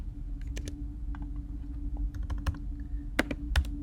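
Text being typed on a computer keyboard, clusters of crisp, close key clicks in an uneven rhythm, some louder strokes standing out, over a faint steady background hum.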